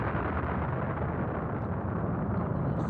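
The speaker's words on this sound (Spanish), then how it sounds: "Tiene lugar una misteriosa fluctuación y se genera la gran explosión." A big bang explosion sound effect for the birth of the universe, a dense continuous roaring rumble with no clear onset, loud and sustained throughout.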